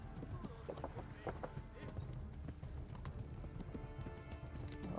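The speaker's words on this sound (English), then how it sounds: "Run, you little horse." Horse hooves run in the medieval video game Kingdom Come: Deliverance, a quiet, rapid, rhythmic clip-clop of galloping that carries on steadily throughout.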